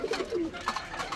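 Black pigeons in a cage coo close by, a few soft low warbling calls in quick succession over faint background noise.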